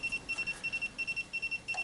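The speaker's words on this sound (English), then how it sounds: "beeping is telling us that it's done its job" An SEC E9 code key cutting machine signals a finished job with a rapid series of short, high electronic beeps in steady groups, fairly faint and with no voices.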